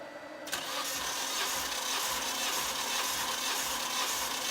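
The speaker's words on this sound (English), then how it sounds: "We're just going to be doing a compression test just to make sure the motor is healthy before we start the actual turbo process." A car engine cranks over steadily for a compression test ahead of a turbo build, starting sharply after half a second and holding a loud, even churning drone to the end with no talk.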